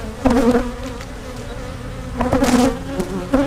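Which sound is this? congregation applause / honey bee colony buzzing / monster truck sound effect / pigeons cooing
honey bee colony buzzing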